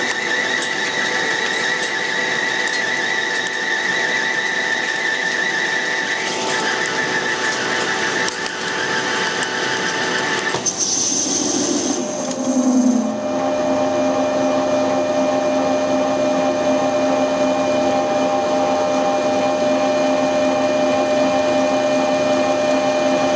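A lathe turning down a damper hums and whines steadily, with a high tonal squeal from the cut; around the midpoint the pitch shifts as the cut changes, then the machine runs on with a steady drone.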